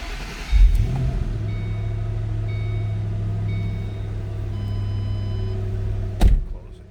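A 2007 Ford Mustang Shelby GT500 coupe cranks and fires up, settling into a steady low idle rumble that holds for several seconds, with a sharp thump near the end like a door closing.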